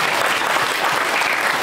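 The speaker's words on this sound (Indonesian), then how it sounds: "Tepuk tangan dulu." A live audience claps together in a short, dense burst of applause that holds steady and loud for its whole length, with no voices heard.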